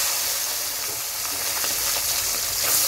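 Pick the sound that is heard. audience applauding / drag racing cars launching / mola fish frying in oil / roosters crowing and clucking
mola fish frying in oil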